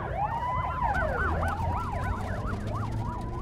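Several police car sirens wail and yelp over one another, overlapping rising and falling tones, loud and continuous against traffic noise on the streets of Kingswood.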